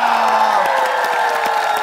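A large television studio audience cheers and whoops loudly with scattered clapping, a dense continuous roar close by.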